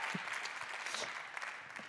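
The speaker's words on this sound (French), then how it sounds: "donc on peut l'applaudir encore plus fort" An audience at a Tech For Future awards ceremony applauds Daniel with dense, sustained clapping that fills the room.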